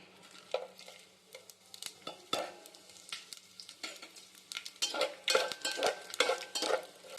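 Ghee and whole spices sizzle in a kadai for egg biryani, a soft, steady frying hiss broken by clinking spoon stirs and scrapes against the pan, close and without talking.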